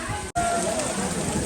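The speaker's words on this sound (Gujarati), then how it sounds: "મોટા સાટે વરસાદ આવે છે જો એ રીતે" Heavy monsoon rain pours at a hill station in Saputara, a dense, steady hiss filling the short moment, briefly cut by a sharp drop before resuming loud and close.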